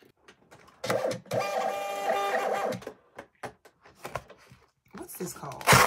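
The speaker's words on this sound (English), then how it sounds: "What's this called? Label printer." A label printer runs steadily for about two seconds while a shipping label prints, with packing-table handling noises and a voice talking before and after.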